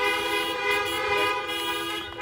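Car horns honk together during a Sunday drive-in church service, several overlapping tones forming a loud, sustained blare for the full two seconds, with no talking over it.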